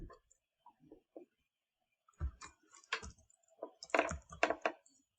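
Typing on a computer keyboard: close, crisp key clicks in irregular bursts, sparse at first and then denser and louder clusters of keystrokes against near silence.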